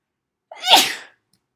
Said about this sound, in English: Oh my gosh, I'm about to sneeze.